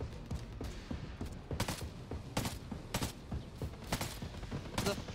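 Gunfire in a multiplayer shooter, scattered sharp shots and short bursts at moderate distance over a low murmur of game noise.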